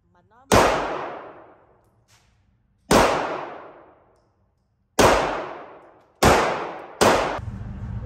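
Five loud pistol shots ring out at irregular intervals at a shooting range in the US, each a sharp crack with a ringing, echoing tail; faint voices murmur between them.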